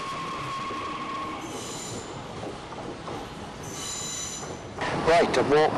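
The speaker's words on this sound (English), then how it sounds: "the train goes off now southwards back towards the" A train pulls away from Foix station heading south toward the Pyrenees, its wheels squealing in high sustained tones over a steady rumble, growing louder toward the end with a faint voice briefly underneath.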